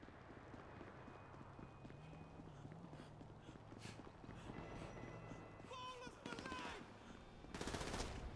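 Rapid bursts of gunfire in GTA V with the Chaos Mod, rattling under steady game noise and background sound effects, with a louder burst near the end.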